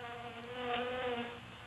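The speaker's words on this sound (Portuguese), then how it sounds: "Isso, parece uma abelha esse, não parece?" Bee-like insect buzzing, played as a demonstration of tinnitus, hums steadily for under two seconds with a slight swell in the middle, moderately quiet and alone.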